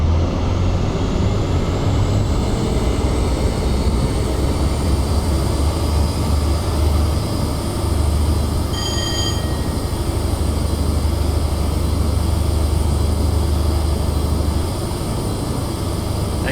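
An HST train runs at speed on the East Coast Main Line between London and Peterborough in Train Simulator, a loud, steady engine drone and rolling roar lasting throughout, with a brief high tone midway.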